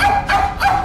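A dog gives three quick, close barks in steady succession, loud and without other sounds.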